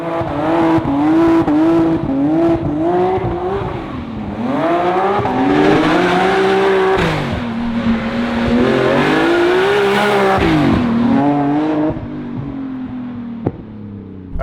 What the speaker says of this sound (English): here we go for a ride in my buddy Gary's crazy ass M Coupe